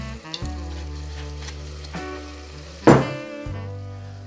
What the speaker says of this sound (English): We're gonna deglaze with the sherry, and then we're gonna make our roux.